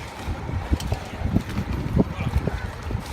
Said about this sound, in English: bringing the boat in